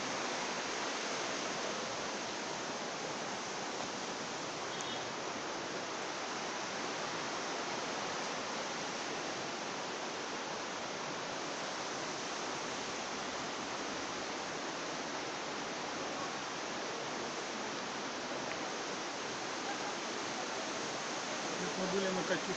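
Water pours steadily into and out of a sinkhole on the Zma river, a dense, unbroken rushing roar that stays even and loud throughout with no pauses.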